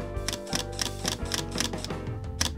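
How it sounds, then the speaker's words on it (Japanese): Rapid mechanical shutter clicks from a Panasonic LUMIX G3 firing its fastest high-speed burst at full 16-megapixel JPEG Fine, a close, crisp run of about ten evenly spaced snaps that slows slightly toward the end. "メカニカルシャッターで一番速い高速連写をやってみます"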